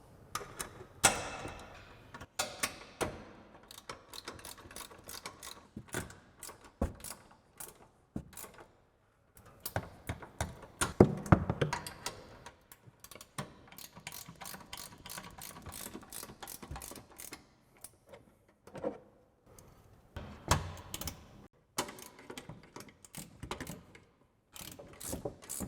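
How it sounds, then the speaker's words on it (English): 17mm ratcheting wrench tightening top nuts on a RAM 1500 coil-over suspension lift, rapid bursts of ratchet clicks in repeated strokes with short pauses between them, close and fairly quiet. "we can grab our 17mm ratcheting wrench and tighten down all of our top nuts"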